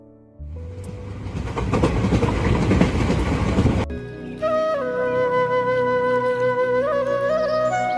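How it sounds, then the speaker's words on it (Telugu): A train rumbles past loudly with rattling, clattering wheels, then the noise cuts away to steady tonal humming and ringing. "నా ట్రైన్ వస్తుంది, వస్తాను"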